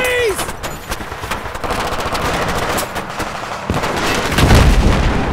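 Rapid machine gun fire in Battlefield 3 during a forest ambush, dense bursts of automatic shots with booming impacts and explosions building toward the end, loud and continuous under shouted in-game voices.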